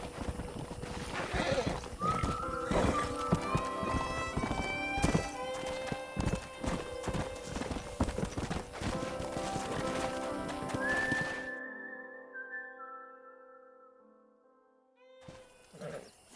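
Horse hooves clip-clopping and a stallion neighing in the Red Dead Redemption game, steady close hoofbeats with a whinny, fading toward the end into near silence before a brief return.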